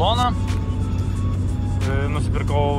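Cabin noise inside a VW Golf Mk2 while driving, a loud, steady, low engine and road rumble with someone talking over it.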